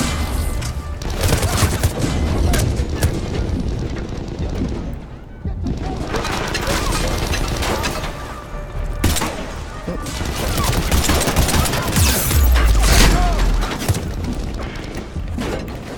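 Gunfire and explosions in the video game Mass Effect 3, dense rapid weapon bursts and heavy booms layered with a loud action soundtrack, nearly continuous with a brief lull, while a person talks over it.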